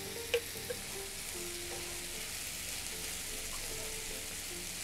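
Takana pickles and potatoes frying in oil in a pan, with a steady soft sizzle throughout and a couple of brief clatters near the start.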